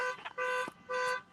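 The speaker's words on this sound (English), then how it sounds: "Y'all hear the alarms going." Alarms going off, two long electronic tones with a short warbling blip between them, moderately faint and heard alone.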